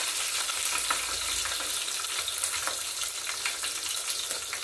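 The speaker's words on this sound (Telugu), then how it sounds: "చిన్నెల్లిపాయలు వేస్తున్నాను." Shallots sizzle steadily in hot oil for tomato rasam, a dense, even crackle with faint scraping of stirring throughout and no voices.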